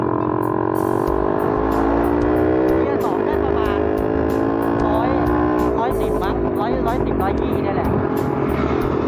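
A Nissan Teana's engine hums steadily while driving, its droning note rising and shifting as it accelerates, heard continuously beneath people talking inside the car.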